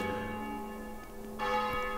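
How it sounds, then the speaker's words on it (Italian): A church bell rings during an Italian music lecture on pitch class sets, its steady tones sounding alongside a sustained pitched drone and swelling briefly louder near the end, with no talk over it. "La campana mi tiene compagnia."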